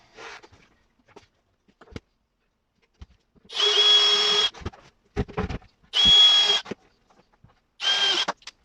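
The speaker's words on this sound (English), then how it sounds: "put my drill bit straight through that hole" A power drill whirs into wood in three short bursts, each a second or so long, separated by quiet gaps filled with small knocks and handling clicks.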